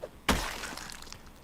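A single sharp crash of glass breaking in Project Zomboid, one loud impact followed by a short scattered tail of tinkling debris, with no talk over it.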